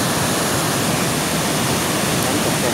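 Rushing water from the big Kaeng Sopha waterfall in Wang Thong district at the end of the rainy season, a constant broadband wash, loud and close, with no distinct events or speech.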